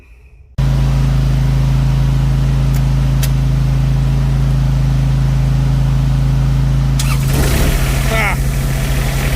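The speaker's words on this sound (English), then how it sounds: "Fired right up. Hasn't ran actually in about a year and a half." Kubota RTV1100 turbo utility vehicle, a small diesel engine that had sat unused for about a year and a half, starting up from quiet and settling into a steady close idle, with a brief rattle and revving near the end.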